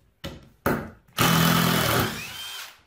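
A power drill or driver backs screws out of a glued 2x4, with two short bursts followed by a longer, steady whir close by.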